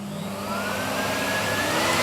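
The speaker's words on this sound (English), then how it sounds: "Turn the hoover on." A vacuum cleaner runs steadily as the suction source for collecting overspray in a DIY powder coating booth, a loud continuous whine and roar that holds throughout and rises slightly in strength.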